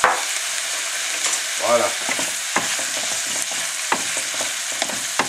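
Banh bot loc filling of sugar-sweetened, generously peppered ingredients fries in a pan while being stirred: a steady close sizzle with scraping stirs and clinks, and a brief word spoken near the end.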